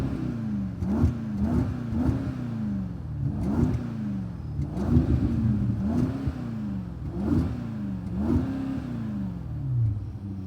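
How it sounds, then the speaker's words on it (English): A Brabus Range Rover with a 600 hp V8 and modified exhaust is revved repeatedly, about seven sharp throttle blips rising and falling in quick succession, loud and close with crackle between them. "now we will be hearing the sound of this Brabus Range Rover, 600 horsepower, modified exhaust"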